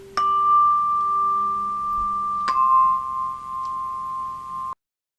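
Two clear bell tones from a Belleplate, each rung once and left ringing undamped, so every note sustains steadily with a long, pure hum before cutting off abruptly.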